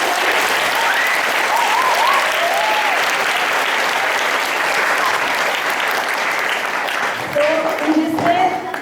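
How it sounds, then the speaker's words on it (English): Students clap for themselves at a Computer Literacy Day school celebration, loud sustained applause close by, with a few voices and cheers rising near the end. "So all of you clap for yourself."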